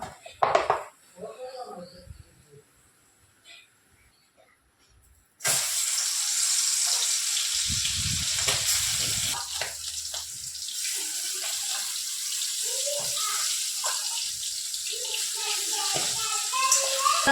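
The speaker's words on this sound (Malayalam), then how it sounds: "കൈയോടെ തന്നെ കഴുകി വയ്ക്കാൻ പറ്റും" Dishes are washed by hand under a running kitchen tap in a home kitchen; after a few seconds of quiet clinks, a loud continuous gush of water starts, with occasional clatter of utensils beneath it.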